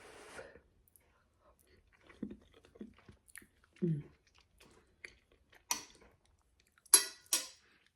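Eating hot baked American goulash with cutlery: scattered soft clinks and chewing sounds, with a few sharper utensil taps against a dish near the end, set against a quiet room.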